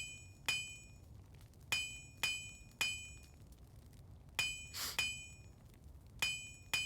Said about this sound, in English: I can forge it into your nail and make it even stronger still.